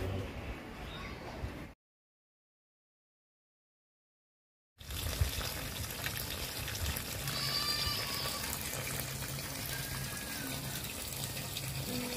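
Water runs from a tap in a steady, even rush. It cuts out briefly, then resumes and continues without interruption, with faint background sounds and no clear speech.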